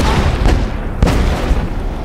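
Grenade blast in the video game Evil West, a loud booming burst with a second sharp impact about a second later, rumbling throughout the short moment.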